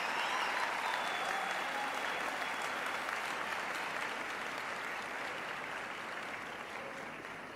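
A commencement ceremony audience applauds graduates' families in a broad, even roar of many hands clapping, steady and full before tapering slightly.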